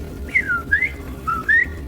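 A person whistles an imitation of birdsong, a short series of bright sliding chirps in two quick bursts, close and clear over a faint low background hum.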